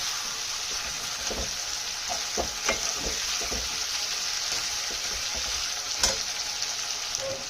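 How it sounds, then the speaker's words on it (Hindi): Onions, potatoes and green chillies fry steadily while a spoon scrapes and turns them, producing a loud continuous sizzle broken by irregular close scraping taps, one sharper knock near the end. "इसमें मैंने प्याज, आलू और हरी मिर्चें फ्राई करने के लिए डाल दी हैं और हम स्लो इसमें चम्मच भी घुमाते रहेंगे।"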